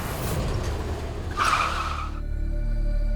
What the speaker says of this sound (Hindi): दिव्यम जी, आप यहाँ पे गाड़ी रोक दीजिए, हम खुद से चले जाएंगे।